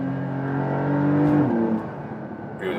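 A Porsche 911 Dakar engine hums and rises, then drops off as the driver shifts down, the sport exhaust burbling briefly near and loud.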